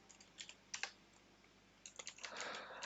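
Java code being typed on a computer keyboard: quiet, close key clicks in short irregular bursts, a pause, then a quicker flurry of keystrokes.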